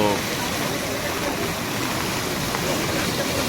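Loud, constant roar of a flooded river rising toward a bridge under rain, a dense broadband wash with no breaks, surging nearby.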